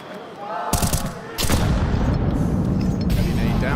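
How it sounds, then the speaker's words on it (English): A heavy grenade blast in a Counter-Strike match at a PGL Cluj-Napoca grand final, sharp burst followed by sustained loud rumble and gunfire-like texture, with commentary over it. "Heavy nade damage."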